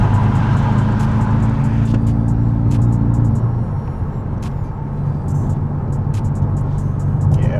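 Supercharged Mazda 3 on the road: a steady low engine drone with rolling road rumble fills the whole stretch, easing slightly midway, heard from inside the car with no talking.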